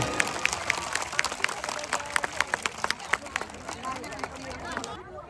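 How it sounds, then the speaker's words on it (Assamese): An audience at a public gathering in Sivasagar gives a round of applause, with scattered, fairly sparse claps mixed with crowd murmur that fade out at the end. "পুনৰ এটা জোৰদাৰ হাত চাপৰি শিৱসাগৰবাসী"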